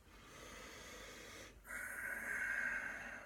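Slow, audible breathing with the exhale drawn out longer than the inhale: a soft breath, a brief pause, then a longer, louder hissing outflow close by.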